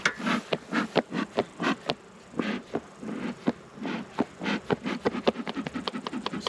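Honey bees buzz from an opened beehive, a dense drone broken by many short pulsing swells as individual bees pass close by, steady and moderately loud with no talking.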